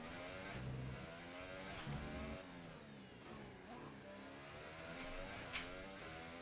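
Formula 1 race car in the F1 2018 video game holding top speed on a straight, a steady high-pitched engine whine with slight revving shifts, continuous and close, no talk.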